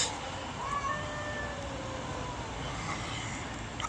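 A cat meows a few times, the cries faint against a steady wash of outdoor noise, with a hum like distant traffic or an aircraft underneath.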